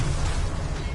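Confringo fire spell blast in Hogwarts Legacy, a loud, dense, rumbling burst lasting about a second, heard up close with no voices over it.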